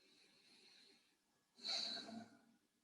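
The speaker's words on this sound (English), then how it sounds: "Breathing through the nose," Soft nasal breathing during a guided movement or yoga session, a quiet airy inhale and exhale that swells to a louder breath near the middle, heard alone at close range.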